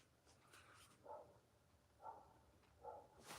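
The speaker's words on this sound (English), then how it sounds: "that's a friend of mine's dog." A friend's dog barks a few times in short, soft, muffled bursts about a second apart, distant and faint in a quiet indoor sunroom at night, without talking.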